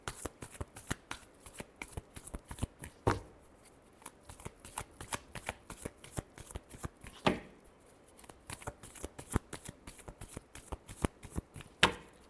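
Tarot cards being shuffled by hand during a reading, a long run of quick papery riffles and taps close by, with a few louder slaps of the deck between the quieter strokes.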